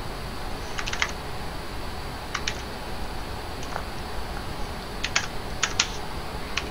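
Computer keyboard clicked in short bursts of quick keystrokes and a few isolated taps, close and crisp, set against a steady background hiss with no talk.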